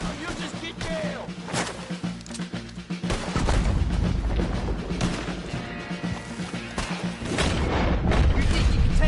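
Cannon fire in the Red Dead Redemption 2 video game: deep booms and crashing blasts go off several times amid gunfire and battle noise, loud and close, while voices shout over the chaos.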